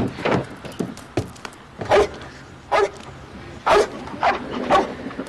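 A dog barks repeatedly, about six or seven sharp, close barks at an uneven pace, alone without talk.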